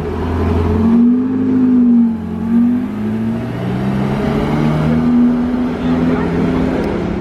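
A Porsche 918 pulls away in a convoy of six or seven cars in Monaco, loud engine tones rising and falling as the cars accelerate close by, with a voice talking over them.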